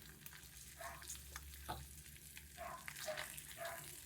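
Bacon sizzles and crackles in a pan at close range, a quiet, continuous fry with scattered pops and faint stirring or scraping noises, with no voices.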